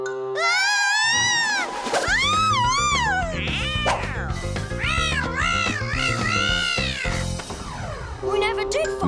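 A cartoon cat meows repeatedly in long, wavering, sing-song cries, loud and close, over a continuous musical backing.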